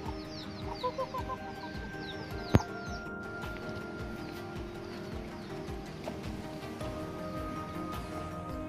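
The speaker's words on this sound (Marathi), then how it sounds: "शेजारीच गावरान कोंबड्या आणि त्यांची छोटी छोटी पिल्ले मस्तपैकी चरत होती" Free-range village hens with their small chicks foraging at a farm house in Vaijnath, Raigad, give a few soft clucks and chirps over a steady outdoor background, with one sharp knock partway through.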